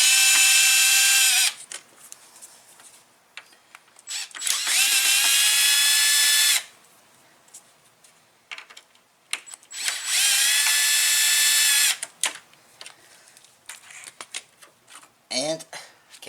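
Power drill backing out the three screws that hold the grille camera on a Lexus GX460, two sustained high whirring runs with short pauses between, close and loud, with someone talking in the gaps.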